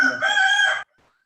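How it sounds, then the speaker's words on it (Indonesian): A rooster crows once, loud and near, in a drawn-out harmonic call lasting under a second before cutting to near silence. "Ya, ini agak terganggu dengan suara ayam ini."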